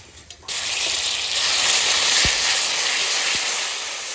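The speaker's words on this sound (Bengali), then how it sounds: "জিরে আর কাঁচা পাকা লঙ্কা তেলে দিয়ে দেবো।" Cumin and green chillies land in hot oil and erupt into a loud, steady sizzling hiss that holds strong for several seconds, with a couple of faint clinks of a utensil against the pan.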